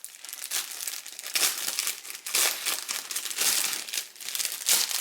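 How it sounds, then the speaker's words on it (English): Plastic packaging from a puzzle crinkles and crumples steadily for several seconds, close and fairly loud, with bursts of rustling and no talking. "Now we're just going to take the plastic that it came in."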